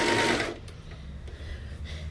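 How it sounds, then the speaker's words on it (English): Simplicity SB 3734 serger sewing machine stitching briefly and loudly at the start, then stopping, leaving a quiet low hum with faint handling noises. "You just flip that over, and that's how you lock your ends in on a serger."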